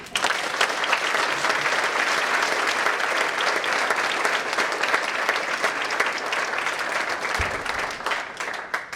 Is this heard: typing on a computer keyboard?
no